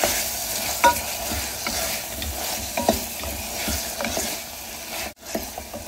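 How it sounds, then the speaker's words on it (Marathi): Soya chunks are stir-fried in a pan for soya pulao, with continuous sizzling and regular spatula strokes scraping through them, close and fairly loud. "तर आपण ही सोयाबीन वडी छानपैकी यात परतून घेतलेली आहे"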